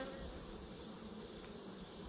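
Steady, dense buzzing of many honeybees at an open hive during an inspection, a continuous low drone with no talking, close by and fairly quiet.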